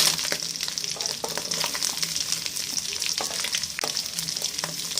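Sliced onions fry in oil for noodles, a constant sizzling hiss with repeated scraping and clattering strokes as they are stirred around the pan.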